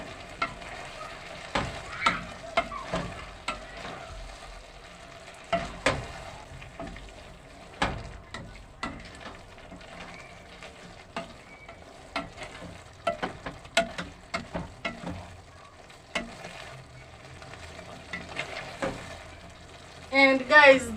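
Beef for spaghetti bolognese frying and being stirred in a pan, irregular scrapes and clacks of the spoon over a quiet sizzle, with a burst of louder scraping at the end and a voice speaking at times.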